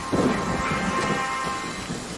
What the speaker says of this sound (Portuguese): Vixi, chovendo, ó